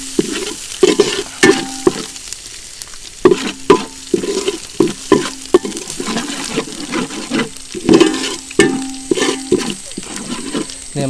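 Curry leaves crackling and frying in very hot oil for kappa biriyani, giving loud, close sputtering bursts and pops in an irregular run over a steady sizzle.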